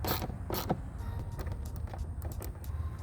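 A 10mm socket wrench tightens the bolts of a Roush cold air intake on an EcoBoost Mustang, giving rapid, close ratcheting clicks in quick bursts with short pauses between them.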